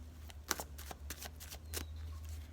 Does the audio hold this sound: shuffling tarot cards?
yes